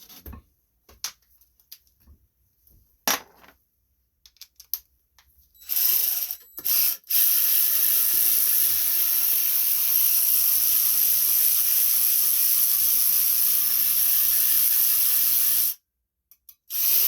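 Bolt being tightened onto the metal cover plate of a Wayne electric shallow well pump, a few ratcheting clicks early on, then a steady loud hissing mechanical whir running for about ten seconds before cutting off.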